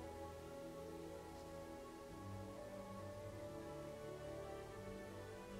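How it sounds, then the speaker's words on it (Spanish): The lead rain card effect in the Legends of Runeterra video game gives a soft, continuous patter like rain hitting a surface, heard faintly over steady layered background tones, with no talking. "Hacemos Gangplank y seguido hacemos lluvia de plomo."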